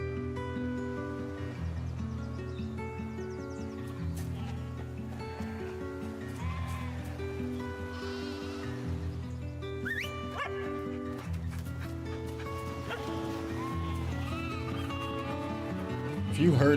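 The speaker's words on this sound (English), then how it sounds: "If you heard those sheep with that dog," In a video game teaser shown at an indie game showcase, sheep bleat and a dog barks and whimpers over a steady musical score, with several animal calls scattered through the music.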